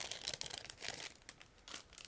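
Crinkly plastic bag being handled as a clear sprue from a 1/48 scale ICM Ju 88P-1 model kit is pulled out, giving a close, continuous run of sharp rustles and crackles with no voices.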